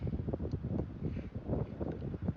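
Steady wind buffets the microphone on a cliff top in low, rumbling gusts, continuous and fairly loud, with no voices.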